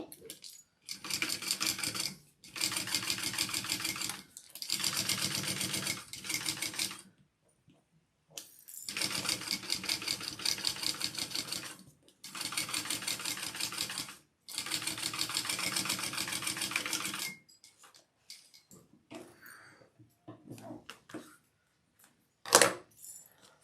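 A sewing machine top stitches a Shamballa Juanita bag in six steady runs of rapid needle chatter separated by short pauses, followed by faint clicks of handling the fabric.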